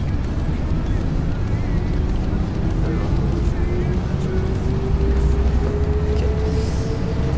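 Bus engine in the OMSI 2 driving simulator, accelerating on a night service route: a steady low drone with a whine slowly climbing in pitch, continuous and fairly loud throughout.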